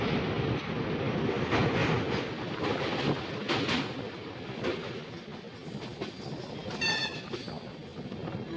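The Vivek Express running after crossing the Mahanadi river near Cuttack station, a loud steady rumble and rattle of the carriages heard from inside, with a brief horn-like tonal blast near the end and no speech.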